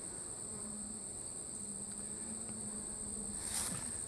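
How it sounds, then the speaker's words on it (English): Honey bees hum around an open hive during an inspection, a faint, steady droning buzz that carries on evenly, with a slightly louder swell of wings near the end. "so lots and lots of bees. Lots and lots of bees,"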